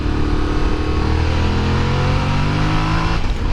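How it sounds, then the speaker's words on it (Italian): A Yamaha Ténéré 700 with its CP2 twin engine accelerates hard, a loud, close revving whose pitch climbs steadily, with wind rush over the top. "E il motore frulla, che è un piacere, il CP2 è un ottimo motore."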